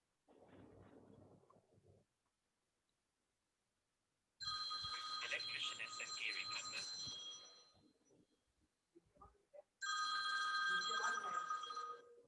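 A telephone rings in two loud bursts with a pause between them, each a bright, steady electronic ringing tone, following a stretch of quieter indoor talk; no voices during the rings.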